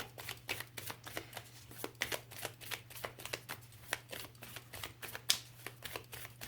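Oracle cards being shuffled by hand, a quiet, steady run of soft riffling clicks and slaps repeating over a low hum.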